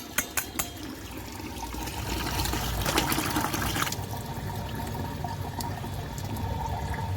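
Tap water runs steadily while fish is washed, a close continuous rushing flow that starts after a few sharp knocks and swells midway, with no one speaking.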